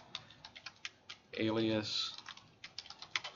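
Light clicks of typing on a computer keyboard, entering multi-line text in drafting software, tap out in quick irregular bursts. Someone briefly speaks partway through, then the soft keystrokes continue.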